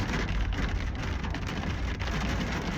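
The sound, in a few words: rain falling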